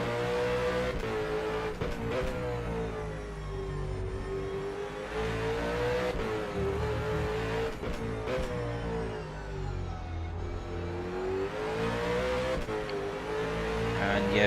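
A V8 Supercar engine roars on board in the rFactor 2 racing game, a loud, sustained tone that rises and dips through gear changes along a fast sector, with shifts and brief lifts heard throughout.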